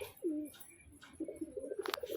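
Pigeons coo softly nearby, a few low throaty calls followed by a burst of quicker warbling coos and light fluttery sounds.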